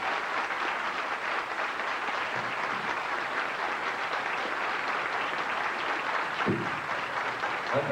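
An audience at a seniors' carnival gives sustained, steady applause, a dense, even wash of many hands clapping at moderate loudness without letting up.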